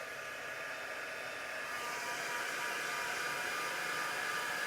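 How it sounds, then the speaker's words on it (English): A steady, loud rushing blow of a heat gun runs without pause, a constant airy roar with no talking. "It does react well to your heat gun."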